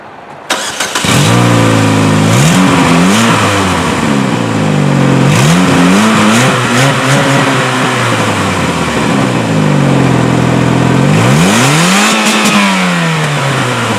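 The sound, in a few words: car engine revving to redline at car meet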